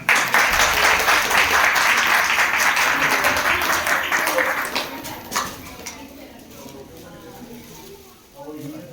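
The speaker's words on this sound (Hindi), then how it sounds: "इनके लिए ताली बजाएं।" An audience at a church Christmas gathering applauds a Sunday school helper, a dense patter of clapping that fades after several seconds into quieter room noise with a little background talk.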